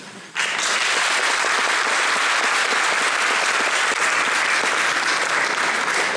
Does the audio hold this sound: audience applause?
yes